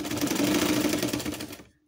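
Sewing machine stitching along the end of a patchwork fabric basket, a steady rapid mechanical whir that runs close and loud for almost two seconds before stopping abruptly.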